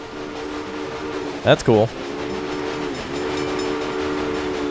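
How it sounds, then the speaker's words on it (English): Trains rolling through a Railway Empire gold rush map, a steady low rumble of rail traffic with a brief whistle-like tone in the middle, under a short spoken remark. "look at all the trains moving in the background"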